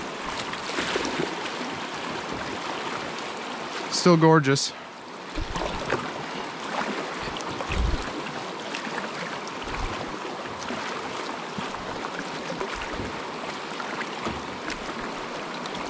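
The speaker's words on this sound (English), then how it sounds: "Not much elevation change, but a good amount of water coming down." Water of the Petawawa river flowing past with a steady, moderate rush, and a voice speaking briefly near the start.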